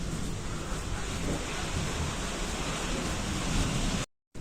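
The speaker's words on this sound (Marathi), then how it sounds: "मित्रांनो पाऊस खूप आला आहे." Heavy rain pours steadily and loudly in a dense, unbroken roar across a farm field during cotton-seed sowing, with a deep rumble of thunder blended underneath, until a sudden brief dropout near the end.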